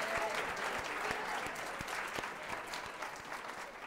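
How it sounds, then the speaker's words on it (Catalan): Studio audience on the Canal Terrassa word game show Pica Lletres claps for a contestant, a quiet, even patter of hands lasting a few seconds with a faint voice underneath. "t'hauré de convidar amb aquest aplaudiment a que seguis a la cadira"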